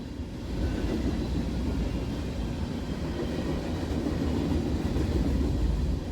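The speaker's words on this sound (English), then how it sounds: "It's an empty rubbish train." An empty rubbish train rolls past at steady speed, a continuous loud low rumble of rail cars with faint clickety-clack, sustained throughout without talk.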